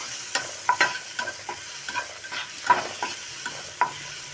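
Masala for bread toast being mixed and fried in a pan, heard as close, irregular scraping and clinking strokes of a spoon over a soft background sizzle, with no one speaking.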